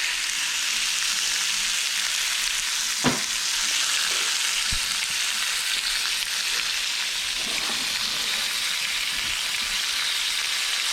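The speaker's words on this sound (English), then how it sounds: "we're gonna take this fish and put it meat side down" Fish laid meat side down sears in a hot pan with a loud, continuous, close sizzle like heavy rain, punctuated by a couple of sharp knocks from the pan or utensil.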